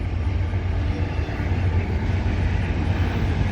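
Loud, continuous low rumble of a Norfolk Southern double-stack freight train rolling past at Shenandoah Junction, steady and close with no voices over it.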